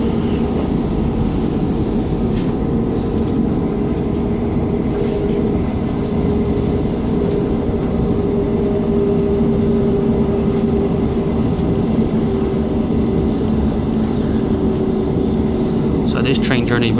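A Class 158 diesel unit running between Exeter St David's and Dawlish, heard from inside as a steady loud rumble and drone of engine and wheels that carries on unbroken throughout.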